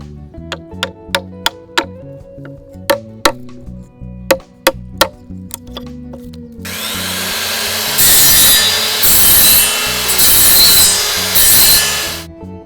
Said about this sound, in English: using a combination of tools to cut, chisel, and smooth the wood